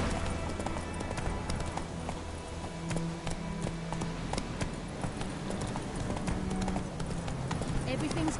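The horse Roach in The Witcher trots with steady, rhythmic hoof clip-clops under continuous game ambience, while voices talk over the hooves.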